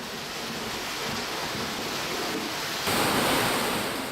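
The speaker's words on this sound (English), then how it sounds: "the link returns to the noisy stream" Steady, broadband rushing roar of a noisy underground stream in a cave in Speedwell Caverns, continuous and fairly close, swelling slightly louder toward the end, with no voices.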